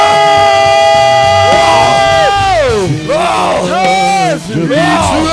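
A church congregation at a Sunday service ululates and cheers for the Lord, with loud sustained high trilling cries rising and falling in waves, many voices together, close and strong.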